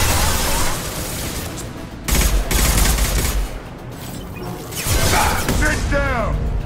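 Dense bursts of automatic gunfire and heavy impacts ring out in the video game Mass Effect 2, loud and sustained with short lulls, while voices speak over the combat.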